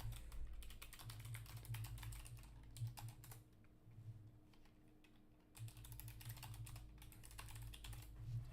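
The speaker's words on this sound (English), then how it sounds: "I'll just type it in too" Keys tapped on a computer keyboard in irregular bursts with short pauses, fairly quiet over a steady low background hum.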